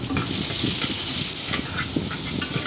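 Steady sizzling of finely chopped onions sautéing in a pan, with intermittent scraping and stirring clatter throughout, close up and continuous.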